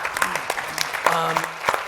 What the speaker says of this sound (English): Can we get a round of applause for him, please?